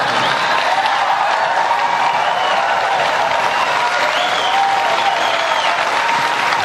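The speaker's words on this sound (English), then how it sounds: "that gets a lot of applause here" Sustained applause from a televised town hall audience, dense and even with no gaps, loud and close across the whole stretch.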